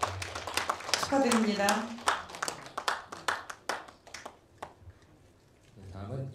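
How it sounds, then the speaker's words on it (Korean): Audience at a folk song contest award ceremony gives scattered, uneven applause that fades toward the end, while a voice briefly speaks over the clapping. "큰 박수 부탁드리겠습니다."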